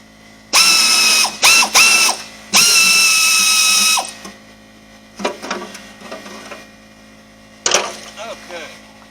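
A ratchet wrench loosens the last bolt on a rusty 350 small-block Chevy engine block, with loud bursts of rapid clicking and then a few quieter rattling clanks and metallic knocks.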